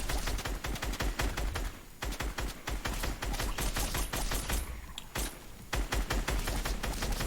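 Rapid video game gunfire as a player shoots zombies from a corner, a loud continuous stream of shots with a couple of brief pauses.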